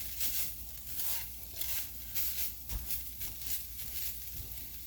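A pastry cutter is pressed through very lean ground beef sizzling in a pan, making rhythmic, repeated scraping and squishing strokes over a steady soft crackle, close and fairly quiet, with no talking.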